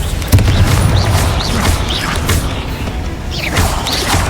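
Confringo blasting-curse explosions in Hogwarts Legacy combat, a string of loud booming bursts with whooshing spell casts in quick succession, dense and close throughout.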